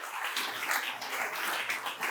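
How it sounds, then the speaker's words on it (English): Outdoor applause at a community foundation founder's day picnic, a soft, steady patter of many hands clapping at a distance, fairly faint and continuous. "we need to give them a round of applause"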